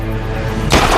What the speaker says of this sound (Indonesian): menembak si Parker sekali lagi